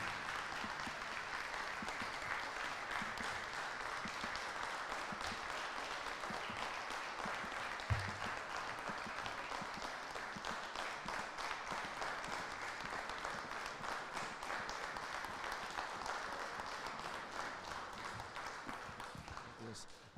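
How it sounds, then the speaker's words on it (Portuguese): A church congregation applauding in praise, steady dense clapping from a large crowd filling the room, sustained evenly for about twenty seconds. "que você possa aplaudir a Ele."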